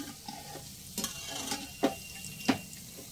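Boondi batter sizzles steadily in hot oil for the Bengali jaggery bundia sweet while a ladle stirs through it, a few sharp scraping clinks standing out over the soft crackle, close and alone without talk.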